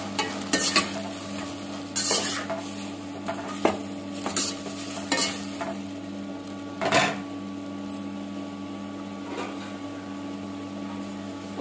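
Salted vegetables softening in a pan for ragi upma make a low, steady sizzle under a constant hum, broken by intermittent sharp spatula scrapes and stirring knocks.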